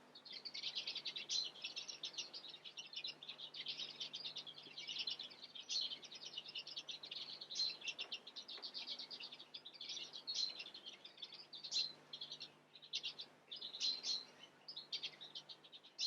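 British finch mules and hybrids chirp in an aviary, a continuous busy flurry of quick, high tweets from several birds, fairly faint and with no talking.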